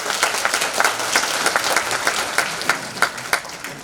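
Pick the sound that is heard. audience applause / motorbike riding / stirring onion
audience applause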